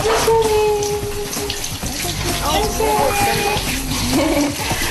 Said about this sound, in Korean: 여느 엄마들처럼 이렇게 샤워기를 이용해서 아이를 씻기시고 있었습니다